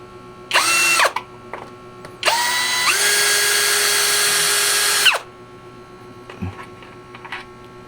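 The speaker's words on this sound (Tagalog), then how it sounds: "Ito lang pantanggalon yung mga screw para ito maabli." A power driver whines on screws of a Suntree 50A MC4 DC isolator switch, one short burst followed by a longer run that steps up in pitch, close and loud, with faint clicks afterward.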